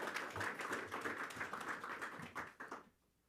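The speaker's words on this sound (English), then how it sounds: "please give another round of applause to all our presenters for this strong partnership." An audience at a central bank press briefing claps for about three seconds, a dense patter of many hands, moderately close, which stops abruptly into quiet.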